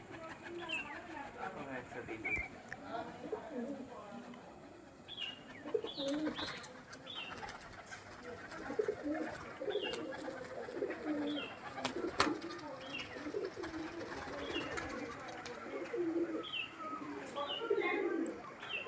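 Pigeons at a loft coo softly, with scattered chirps and occasional wingbeats against faint outdoor background, all fairly quiet and distant.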